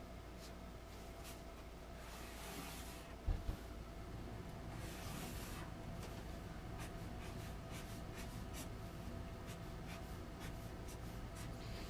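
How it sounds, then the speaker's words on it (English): A permanent marker drawing lines on construction paper, giving repeated short scratchy squeaks of the tip across the sheet, close and quiet, with a brief knock partway through. "As you can see, I'm using a permanent marker."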